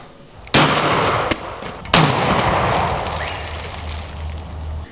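An oxy-propane potato gun fires two sharp, loud reports about a second and a half apart, each trailing into a long noisy rumble over a steady hiss.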